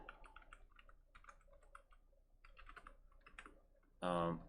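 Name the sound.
typing on a computer keyboard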